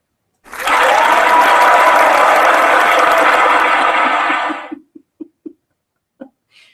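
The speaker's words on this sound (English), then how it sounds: "and that was clapping. So let's try that again." A synthetic clapping sound effect from Google Hangouts plays loud and steady for about four seconds, then trails off into a few sparse, isolated claps.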